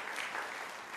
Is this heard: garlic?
no